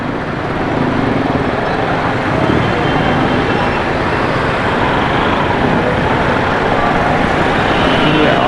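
Dense street traffic on Tariq Road in Karachi on a busy festive night, a loud, constant roar of cars, buses and trucks close by, with crowd murmur blended into the din.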